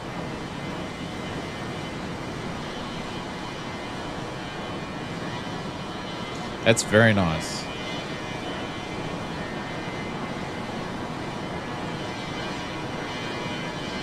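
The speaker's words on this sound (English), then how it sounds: "It sounds like a Fokker." Fokker F100 jet engines in Microsoft Flight Simulator 2024 give a steady broad cockpit drone throughout, broken at the midpoint by a short louder rush and a brief spoken comment.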